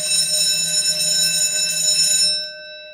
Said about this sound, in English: There goes the bell.